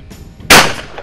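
A single sharp gunshot cracks out, close and loud, with a short decaying echo afterward.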